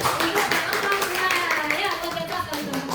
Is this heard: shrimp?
no